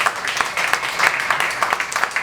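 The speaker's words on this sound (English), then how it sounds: "Round of applause for everybody we've seen." A short round of audience applause at a comedy show, loud and fairly close. The claps are irregular and dense, with individual hand strikes standing out.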